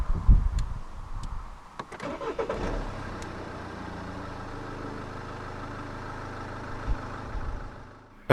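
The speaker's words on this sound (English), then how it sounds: "So to start the car, insert the key fob into the slot right here." A 2012 MINI Cooper SD hatchback engine starting by push button, with clicks and a brief crank giving way to a steady, close diesel idle that runs evenly to the end.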